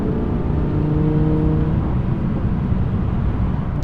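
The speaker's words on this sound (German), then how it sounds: "Wenn ich jetzt das Ganze mal auf Sport schalte, dann gehen die Drehzahlen höher" An Audi R8 RWS in sport mode with its rear exhaust flap open, heard as a steady, loud engine drone with a brief higher tone early on, without speech.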